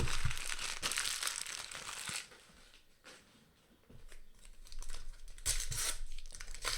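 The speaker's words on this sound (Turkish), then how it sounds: "Hızlı hızlı açıyorum ki Tek tek paket açmakla uğraşmayalım." Panini Euro 2020 sticker packets are ripped open quickly one after another, with sharp crinkling foil and tearing paper close up, in bursts separated by brief quieter handling.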